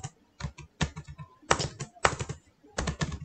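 Code is typed on a computer keyboard in short bursts of close, crisp key clicks with brief pauses between runs.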